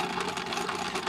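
A sewing machine runs continuously while stitching a straight 8-inch seam along fabric, without backstitching, giving a steady, close mechanical hum and rapid needle chatter at an even pace with no pauses.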